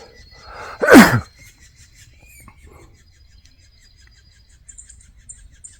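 A single sharp sneeze near the start, then quiet room tone with faint chirps in the background, during a hike.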